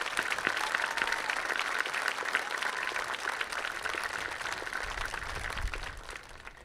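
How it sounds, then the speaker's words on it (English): Audience applause at a graduation ceremony for the class of 2021, a steady dense patter of many hands clapping at moderate level throughout, easing off near the end. "Please rise so everybody can give you a round of applause."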